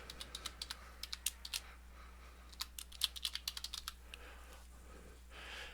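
Quick bursts of keystrokes on a computer keyboard as a short code is entered, light clicky taps in rapid clusters with brief pauses, close and fairly quiet over a faint hum.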